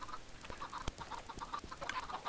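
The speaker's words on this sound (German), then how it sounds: "Hühner töten!" Chickens in the Minecraft video game cluck in quick, repeated bursts amid clicks and sharp in-game thuds, fairly close, with no talk over them.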